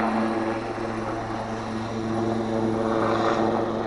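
Engines of a Wildcat helicopter at an air day run as a steady, moderately distant turbine whine and rotor drone, even and unbroken, with no voices.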